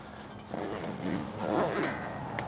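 Heavy-duty zipper on the cover of an Ironman 4x4 270 vehicle awning being pulled along its toughest end, a close, continuous scraping rasp that rises and slows in effort, with no talk.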